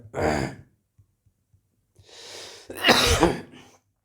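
A man coughs once, a brief harsh burst, then coughs again more forcefully a moment later with a breathy exhale. The coughs are close and otherwise surrounded by quiet.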